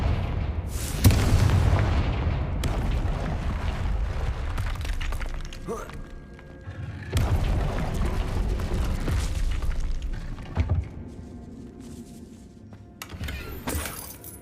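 Confringo fire spell going off in the PC game Hogwarts Legacy, a loud booming blast with crackling debris, then repeated bursts, with a voice briefly heard and game effects around it.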